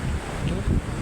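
Strong wind gusting during a flood storm from heavy rain, a broad steady roar with low rumbling buffets against the microphone, loud and continuous throughout.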